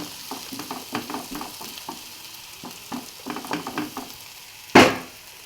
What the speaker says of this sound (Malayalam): ഉള്ളി വഴന്ന് വരാനുണ്ട്.